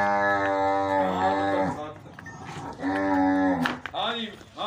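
A Jersey Sahiwal cow at a farm sale gives long, loud, close moos, two drawn-out calls with a shorter one after, while people talk nearby.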